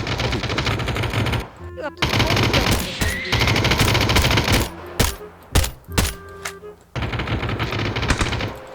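Rapid bursts of automatic gunfire from a PUBG Battlegrounds firefight, loud and close, with sharp clustered shots broken by short gaps and a few single cracks near the end.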